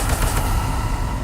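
Confringo and Incendio fire spells cast in the Hogwarts Legacy video game, heard as a dense, loud, continuous rattle of crackling bursts, like rapid fire, lasting the whole moment with no talking.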